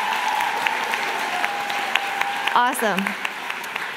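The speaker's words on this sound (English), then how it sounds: "Can we give Vesti and her team a big round of applause?" Audience at a sustainability event giving a round of applause, a steady spread of clapping throughout with a brief spoken exclamation near the end.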